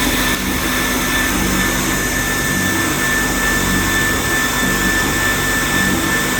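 A Gage DTF printer runs a print job, giving a steady, loud mechanical whir and hum that stays unbroken throughout with no talking.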